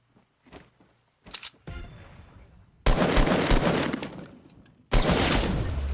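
Sniper rifle fire in the Fortnite video game: a few faint clicks and thumps, then two loud, sharp shots that each ring into a sustained noisy roar. Close and punchy, with no talk over it.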